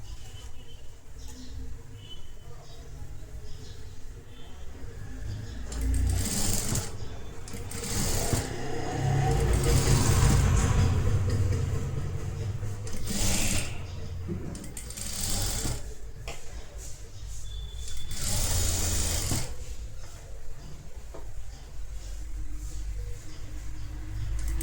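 A sewing machine stitching a netted blouse, whirring in repeated bursts of varying speed with brief pauses and light handling noises in between.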